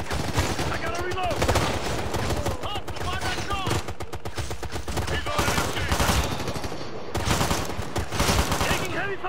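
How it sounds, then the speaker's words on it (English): Heavy gunfire in Ghost Recon Future Soldier: dense, rapid automatic bursts with sharp individual cracks, nearly continuous and loud, with brief pauses and shouted voices mixed into the firefight. "Taking heavy fire!"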